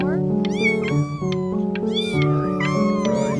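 Cats in the video game Before Your Eyes meow repeatedly in high, rising and falling calls over a continuous musical score, loud and close.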